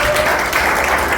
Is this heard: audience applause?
yes